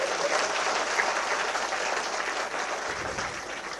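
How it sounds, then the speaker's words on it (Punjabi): Sustained audience applause at a political speech by Bhagwant Mann in Punjab, a dense, steady wash of many hands clapping at full loudness without a break, with no voices over it. "ਜੇ ਸਹੀ ਹੈ ਤਾੜੀ ਮਾਰ ਦਿਓ ਨਹੀਂ ਤਾਂ ਨਾ ਮਾਰ"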